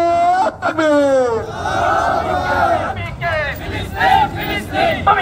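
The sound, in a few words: crowd chanting takbir (Allahu Akbar) in response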